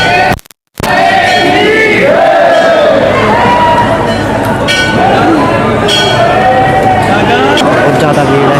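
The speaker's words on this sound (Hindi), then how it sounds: "बहुत ज़्यादा भीड़ है।" A large, noisy crowd mills outside the main gate of Shri Chulkana Dham temple, with loud overlapping voices, shouts and metallic clinks near and around, after a brief dropout at the start.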